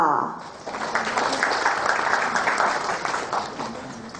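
Audience applause at the opening of a business seminar in Hat Yai, Songkhla, greeting the chair who opens the event; a dense, steady wash of many hands clapping that swells in quickly and holds at an even level throughout.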